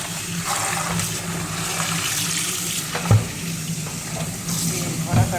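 Tap water running steadily into a sink while raw chicken is washed, a continuous close splashing rush with a couple of brief louder clunks.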